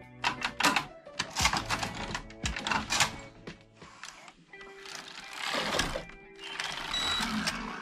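Passap E6000 knitting machine carriage sliding across one row, a quick series of clacking, rattling mechanical bursts and thunks, close and moderately loud, with a brief pause partway through.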